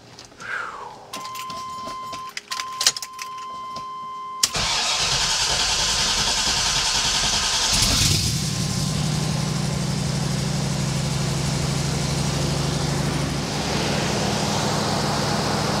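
A 1978 Corvette engine cranks briefly after some faint clicks and key jingling, catches with a loud burst, then settles into a steady, close, rumbling idle that continues to the end.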